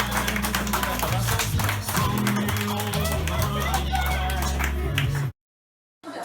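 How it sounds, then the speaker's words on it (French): Guests at a golden wedding anniversary party applaud loudly, a dense continuous burst of clapping close by that stops abruptly near the end. "de là d'applaudir bien fort"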